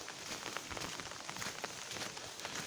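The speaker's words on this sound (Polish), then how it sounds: "no jak widać już drugi dzień w sumie pada deszczyk" Light rain falling steadily during a Saturday afternoon in September in Włocławek, Poland: a soft, continuous patter of drops with scattered faint taps, fairly quiet and even, with no voices.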